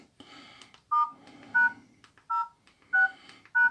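A Samsung E1081T mobile phone sounds keypad tones as a code is entered: five short, bright beeps at a steady pace, close and clear, with faint handling noise between them and no talking.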